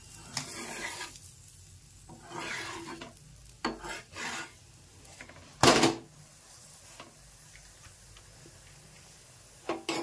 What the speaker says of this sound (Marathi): अशा पद्धतीनं आपली पोळी भाजती मस्तपैकी